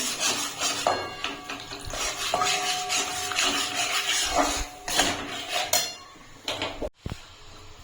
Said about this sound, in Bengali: এখন আমি এর ভিতরে দিয়ে দিচ্ছি দুধ। অল্প অল্প করে মিশিয়ে দিই।